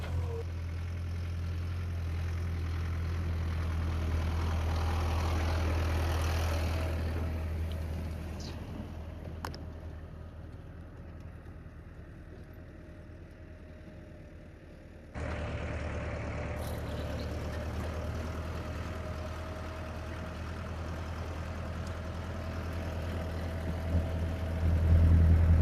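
A tractor engine runs with a laser land leveler on a farm field, a steady low droning hum that continues without a break and stays fairly close, with no talking.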